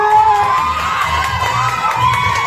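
A large crowd at a Thai sales award ceremony cheers and shouts loudly and steadily, voices overlapping into a continuous roar with scattered whoops.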